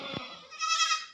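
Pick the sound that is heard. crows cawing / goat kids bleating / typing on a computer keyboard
goat kids bleating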